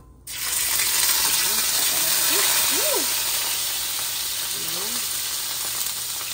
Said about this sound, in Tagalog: magigisa na po tayo ng bawang, sibuyas at kamatis